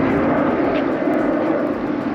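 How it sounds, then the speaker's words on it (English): Noisy old planes roar overhead during a walk in a park with terriers, a loud, steady engine rumble filling the whole stretch with no talk. "Noisy old planes, whatever's happening."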